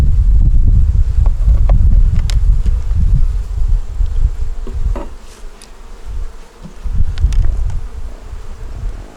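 Honeybees swarm loudly right at the hive, a dense close buzz that swells and dips, with gusts of wind rumbling across the microphone.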